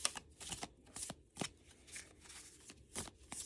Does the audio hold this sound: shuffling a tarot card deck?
yes